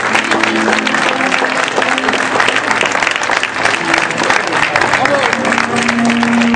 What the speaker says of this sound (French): Applaudissez nos starlettes,